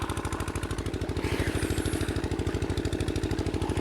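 Near a river, a water pump machine's motor chugs in a rapid, regular beat, loud and close for the whole stretch, with no voices.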